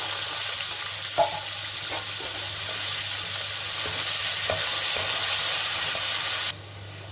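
Potatoes sizzle steadily in hot oil with black mustard seeds and curry leaves, a close, constant frying hiss with a few soft clinks of a utensil, cutting off near the end.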